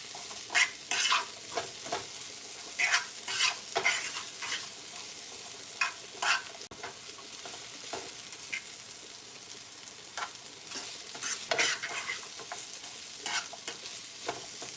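Shrimp chow mein with broccoli sizzles steadily in a pan while being stirred, with repeated scraping and tossing bursts over a continuous frying hiss and no talking.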